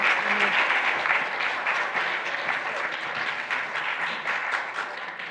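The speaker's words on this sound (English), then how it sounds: "a big applause for our speaker" Sustained applause from a conference audience thanking a speaker at the end of a main-track talk, dense steady clapping that fills the whole stretch and tapers slightly toward the end.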